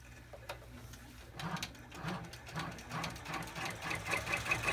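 An embroidery machine stitches an in-the-hoop cross body bag with a fast, steady mechanical patter that grows slightly louder, close and alone with no voices.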